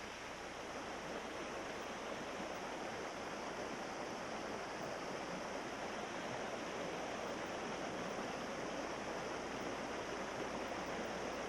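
Steady rushing water of waterfalls spilling down the outer slopes of a volcano into freshwater pools, a dense continuous roar with no breaks, even and full throughout.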